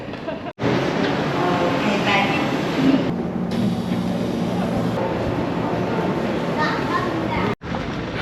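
A subway train in South Korea rumbles and screeches steadily, loud and close, with brief drops in the noise like passing gaps or doors.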